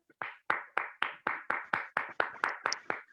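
Seminar audience claps in a steady, even rhythm of about a dozen distinct, moderately loud strikes with no talk, as a director is welcomed at a business seminar.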